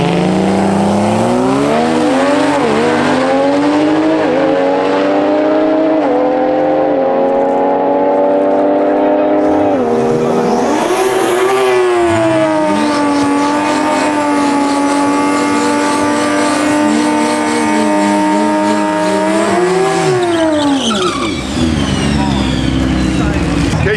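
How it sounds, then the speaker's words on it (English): Race cars with 6-cylinder 2JZ engines at TX2K, a loud sustained engine wail climbing in pitch through several gear changes, near and continuous, with a second pass surging in midway and a crowd faintly behind. "Just went from massive American muscle V8s to 6-cylinder 2JZs. Totally different class, but these cars are fast."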